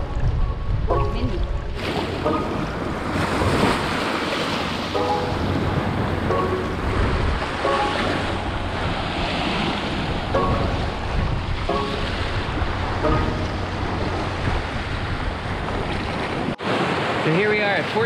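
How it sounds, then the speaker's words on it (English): Steady roar of surf and gusting wind buffeting the microphone throughout on a Key West beach at Fort Zachary, with waves rolling in continuously and faint voices occasionally beneath. "It's a beautiful beach. It's windy today."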